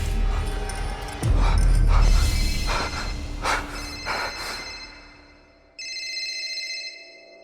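A mobile phone's ringtone chimes in a bright, repeating tone, rising clearly near the end after a stretch of dramatic, eerie background sound, heard in a late-night Korean ghost-story setting.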